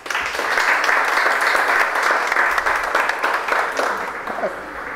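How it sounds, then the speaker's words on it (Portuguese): Sustained audience applause fills a special session at a municipal chamber, a dense, steady wash of many hands clapping for the full five seconds, fading slightly near the end. "o qual eu peço mais uma salva de palmas"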